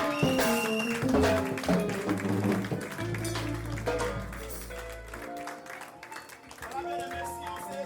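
Congregation applauding in a church during a wedding service, a sustained wash of clapping that blends with music and voices, steady and fairly loud throughout.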